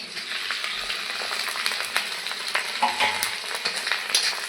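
Boiled fish frying with browned onions and chillies in a pan, a steady hissing sizzle with scraping stirs and occasional crackles, close and continuous at a moderate level.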